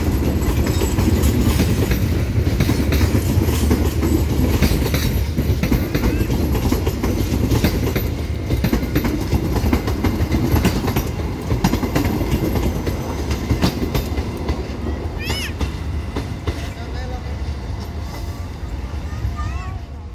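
The Bangun Karta train arrives at Kutoarjo station, rumbling and clattering steadily on the rails, wheels clicking rhythmically, gradually easing off with a faint squeal as it slows.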